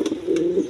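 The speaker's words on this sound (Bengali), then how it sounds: "দর্শকবৃন্দ, এখানে এক পেয়ার রেড কালার কিং কবুতর আছে" A red king pigeon gives a single close, clear coo, a low sustained throaty murmur with no voices over it.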